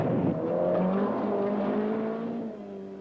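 Chrysler Avenger rally car on a 1974 Burmah Rally stage, its engine revving and climbing in pitch as it passes close by, then fading slightly as it pulls away.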